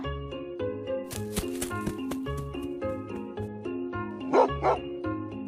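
A cartoon dog barks in short yipping bursts over a busy musical score, the barks fairly loud and clustered near the end.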